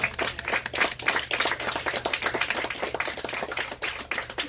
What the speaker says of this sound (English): Let's give all those who have survived domestic violence a nice round of applause